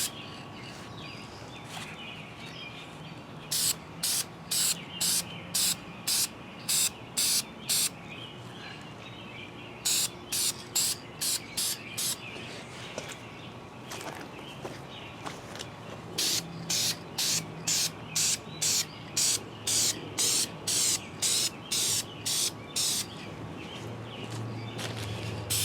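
Aerosol spray paint hisses in repeated short bursts as a second coat goes onto car wiper arms outdoors, the quick rhythmic sprays coming in clusters with pauses between them.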